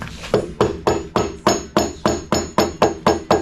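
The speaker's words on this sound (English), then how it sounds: "I need a rubber hammer." A rubber hammer strikes a 1970 Chevelle engine during engine removal in a steady rhythm, about a dozen sharp, evenly spaced blows, loud and close.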